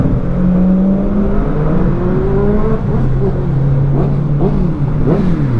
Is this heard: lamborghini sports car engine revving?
yes